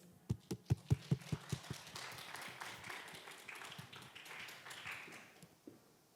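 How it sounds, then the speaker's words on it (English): Audience applause welcoming a presenter on stage at an awards ceremony, opening with a few sharp individual claps before swelling into a dense, steady wash of clapping that fades out near the end. "please give a big round of applause"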